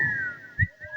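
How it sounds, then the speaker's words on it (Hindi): A person whistles a sustained, wavering tone with a small upward flick, close and clear over a few low thumps. "साले सीटी बजा रहे हो"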